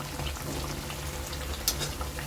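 Raw jackfruit vada frying in oil over a medium flame gives a soft, even, continuous bubbling hiss, fairly faint and close, with one brief louder pop.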